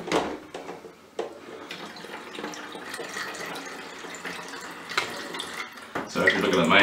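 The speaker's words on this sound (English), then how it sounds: "I'm just going to try and pour this back in." CineStill DF96 monobath developer is poured from a film developing tank back into its bottle, a close gurgling, splashing pour with knocks and handling sounds, faint talk nearby.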